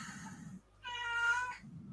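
A house cat lets out one loud, drawn-out meow up close in a quiet room, with soft murmuring from a person before and after it.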